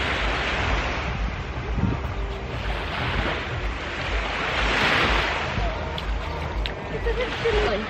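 Surf rolls onto a beach in Ibiza in a broad, continuous wash, mixed with wind rumble on the microphone and no clear break between waves.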